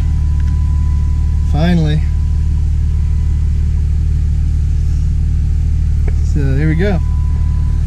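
A deep, steady rumble from a compound turbo Cummins diesel mud truck engine runs throughout, with two short bursts of talk over it.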